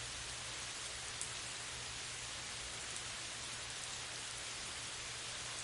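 Steady, even rain falls continuously with a soft, hissing texture and no talk, a constant wash of drops with a low rumble underneath.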